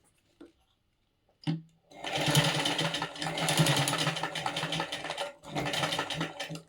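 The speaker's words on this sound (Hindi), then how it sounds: "यहाँ हम इस पे सिलाई चला देंगे" A sewing machine runs a line of stitching on a blouse pad with a brief start-up, then a steady, loud mechanical whir that stops for a moment and resumes.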